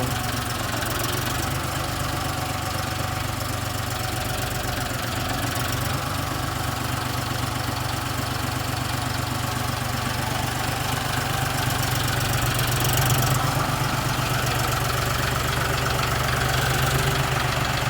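A John Deere 5040D tractor engine runs steadily at low throttle, a continuous near diesel drone with a knocking chug that holds level throughout and no speech over it.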